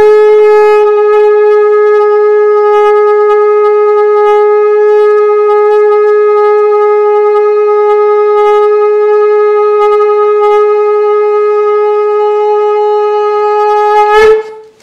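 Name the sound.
shofar (ram's horn trumpet) blown in a sermon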